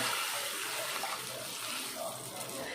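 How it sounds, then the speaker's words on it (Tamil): Lentil cooking water poured from a cup into tomato rasam, a soft continuous rushing pour heard close but quiet, with faint voice in the background. "நான் பருப்பு தண்ணி 1 கப் எடுத்துருக்கேன், அதை ஆட் பண்ணிடுறேன்"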